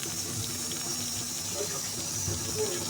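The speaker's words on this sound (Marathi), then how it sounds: "आता राहिलेल्या शेंगदाण्याचा कूट टाकायचा आणि थोडंसं पाणी टाकून वांगे शिजवून घ्यायचं" Water poured into a pan of stuffed eggplant curry with crushed peanuts, giving a steady, even rush of liquid that continues throughout at moderate loudness.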